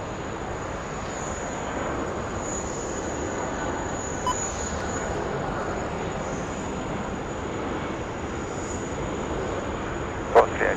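Qantas Freight aircraft on runway 16 right at Sydney Airport, a steady distant jet engine roar holding evenly throughout with broadband rumble and a faint high whine, a brief sharper burst near the end.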